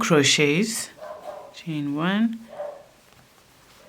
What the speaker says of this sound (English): Sorry about the dogs barking, it's the neighbor's dogs.